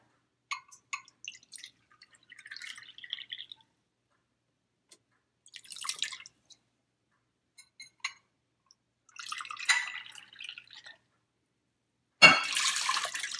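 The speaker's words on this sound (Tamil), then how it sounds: "1 கப் சுகருக்கு 2 கப் தண்ணி இதில் ஊற்றி சுகர் சிரப் பண்ண போகிறேன்." Water goes into a pan with sugar to make syrup for rasgulla. There are faint scattered drips and small splashes in a quiet room, then a closer, fuller pour at the end.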